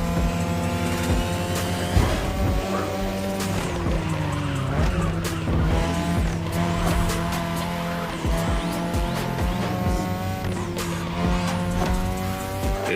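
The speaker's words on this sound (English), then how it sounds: "Tonight your ride is a 3rd Gen 2002 Mazda RX-7. Lightweight, compact, a sick rotary engine" A 2002 Mazda RX-7 rotary engine whines at high revs throughout in The Crew Motorfest, with shifting pitch and bursts of tire squeal, loud and continuous with no talking.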